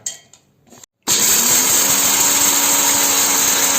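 A mixer grinder jar coarsely grinds peeled roasted ingredients for ragi roti, starting abruptly after a few quiet clicks and then running as a loud, steady whirring hum to the end.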